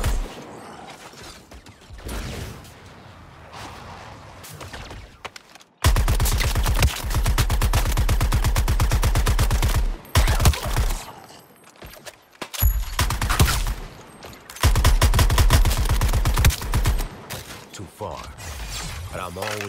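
Long, loud streams of rapid automatic fire in Suicide Squad: Kill the Justice League, several sustained machine-gun bursts separated by brief pauses, with mechanical clanks and quieter stretches between them.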